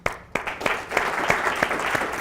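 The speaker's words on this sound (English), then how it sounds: "Can we have a round of applause for you?" Audience applause at a live jazz concert, a crowd clapping steadily with a few sharp claps standing out, close and fairly loud for a couple of seconds.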